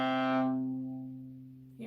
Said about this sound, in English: but the lowest sound that the viola can play sounds like this.